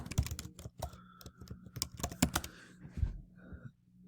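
Someone types on a computer keyboard in quiet, uneven bursts of close, crisp key clicks, with a few short pauses between runs of keystrokes and no talking.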